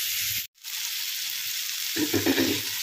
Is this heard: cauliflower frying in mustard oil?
yes